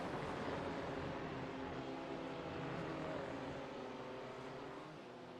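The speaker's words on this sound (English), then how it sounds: "we'll turn this up. Get that engine noise." A racing car engine in the iRacing sim at Hockenheimring drones steadily with rising and falling tonal harmonics as it shifts through gears, faint and continuous, then eases off near the end.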